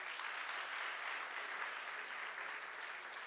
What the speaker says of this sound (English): Can we all have another round of applause?